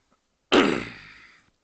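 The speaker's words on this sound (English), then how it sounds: "Sorry for clearing my throat a lot." A single short, harsh throat clear bursts out close to the microphone and fades over under a second, with silence before and after.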